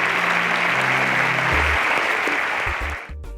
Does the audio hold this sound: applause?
yes